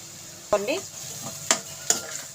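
Vegetable fried rice being stirred in a pan, a light sizzle under three distinct scraping spoon strokes against the metal, close and clear with no talk.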